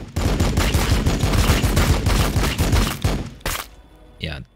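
Rapid, dense gunfire from a Warhammer 40K Battlesector battle bursts loudly in a sustained volley of repeated shots, ending with a couple of separate heavy blasts and a trailing mechanical sound.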